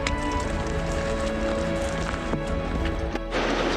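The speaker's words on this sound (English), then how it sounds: "you can hear Bub's Creek down in the bottom" Bub's Creek rushing through the bottom of a Sierra Nevada canyon in Kings Canyon National Park, a steady, dense broadband wash of flowing water that continues unbroken with a brief dip near the end.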